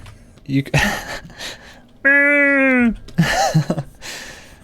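A human voice imitates a deer with one drawn-out, nasal, pitched call lasting under a second, set between bursts of casual chatter and laughter from nearby people.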